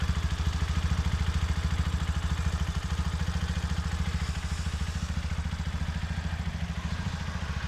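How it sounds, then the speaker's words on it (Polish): A Junak 121FL motorcycle engine runs at a smooth, quiet idle, its even, rapid pulsing beat holding steady and close up throughout with no voices over it. "Silniczek pracuje elegancko, cichutko, równo."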